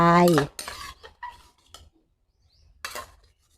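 Tomatoes tossed into an old-style Thai glass noodle salad in a bowl, heard as a few sharp clinks and scrapes of utensils against the dish, with brief pauses and quiet gaps between them.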